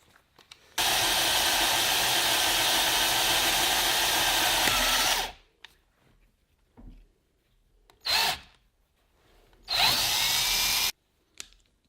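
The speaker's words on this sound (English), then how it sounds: "I can put the larger drill through." A power drill with a larger bit, following a pilot hole, whines loudly and steadily for several seconds, stops, then gives two shorter bursts separated by quiet pauses.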